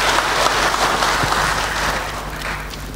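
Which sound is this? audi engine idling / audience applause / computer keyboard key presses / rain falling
audience applause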